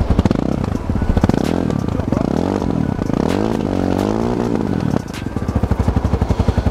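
Motorcycle engine revved hard and close, its pitch sweeping up and down through several throttle blips before settling into a loud, rapid, chugging idle pulse.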